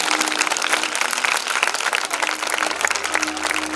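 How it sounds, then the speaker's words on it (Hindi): A church congregation claps loudly and steadily in a hall, crisp overlapping handclaps forming a continuous burst of applause with a faint low hum underneath. "जोर से जिंदा ताली यीशु के लिए बजाएं"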